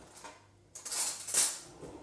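A spoon clinks and scrapes against a bowl of melted chocolate and golden syrup, a few short metallic taps and sticky scrapes close by with no talking.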